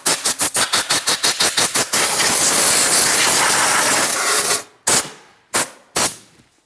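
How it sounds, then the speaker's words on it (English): Compressed air blasts onto the intake of a 2007-2014 Ford Edge 3.5L engine, first in about a dozen rapid short bursts, then as a long loud continuous hiss, ending with three separate puffs. "And now we can use some compressed air."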